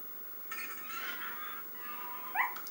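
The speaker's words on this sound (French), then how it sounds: "Et là nous voyons quoi? Un chien piégé dans un piège à loup." A dog caught in a wolf trap in the Resident Evil 4 video game gives soft, high whimpers and whines, faint at first and then a short sharper yelp near the end, over quiet game ambience.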